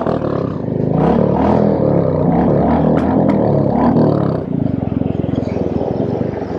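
A Royal Enfield Scrambler 350 custom motorcycle engine while riding along a road, a steady throaty thrum close to the microphone that holds loud throughout, with its pulsing firing rhythm growing more distinct toward the end.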